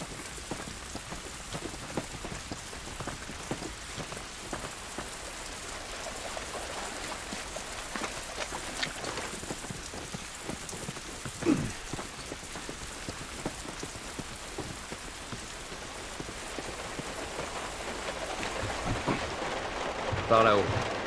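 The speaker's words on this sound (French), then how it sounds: "Cette pluie ne va pas nous aider." Steady rain patters on surfaces in the video game The Last of Us, a constant moderate hiss with scattered drips and a few louder knocks, with faint voices underneath.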